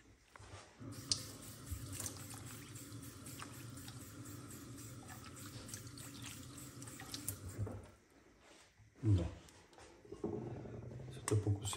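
Onion is rinsed in cold water under a running tap, a steady rush and splash that briefly drops away before the water flow returns, with no talking.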